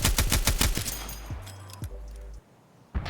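AGS grenade launcher fired in Escape from Tarkov, a rapid burst of about eight heavy thumping shots in the first second, followed by fading mechanical tones and a final thump near the end, no talking.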